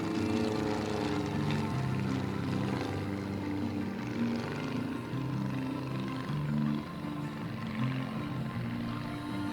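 Display aircraft flying in formation at the Weston Park air show, a loud continuous propeller engine drone that holds steady and dips slightly partway through.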